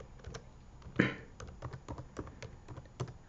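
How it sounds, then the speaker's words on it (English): Fingers type on a computer keyboard while someone signs in, giving a steady run of close, light key clicks with one louder tap near the start. No one speaks. "give me a minute because I can't talk and type at the same time"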